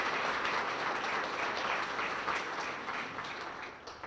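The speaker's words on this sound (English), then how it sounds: "If you can please join me with a round of applause." An audience at a chamber of commerce dinner applauds steadily, a dense wash of clapping that holds for about three seconds and then thins out as it tails off.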